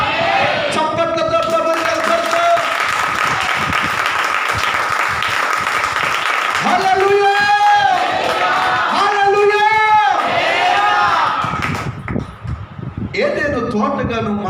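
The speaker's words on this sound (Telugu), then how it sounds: "చప్పట్లతో" A church congregation at a morning fasting and prayer service breaks into loud, sustained applause, with whoops and shouting from the crowd and a pastor's voice carrying over it, then fading near the end.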